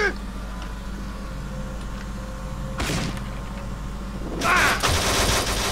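Bursts of gunfire in the video game Kane & Lynch 2: Dog Days, with a sharp volley midway and a louder cluster near the end over low game ambience.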